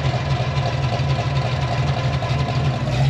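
A car engine idles with a choppy, uneven lope at a car show, a loud, steady low rumble pulsing in a rhythmic cycle without pause and no voices over it.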